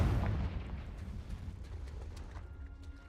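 Confringo fire spell blast in the Hogwarts Legacy video game, a heavy booming explosion at the start that rumbles and decays into a fading crackle over a few seconds.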